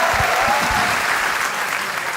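Applause from a live audience at a Gujarati comedy show, a dense burst of clapping that stays loud and steady for about two seconds before thinning slightly.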